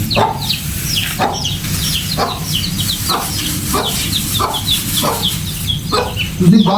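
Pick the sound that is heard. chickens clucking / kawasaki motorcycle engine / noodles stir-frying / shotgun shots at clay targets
chickens clucking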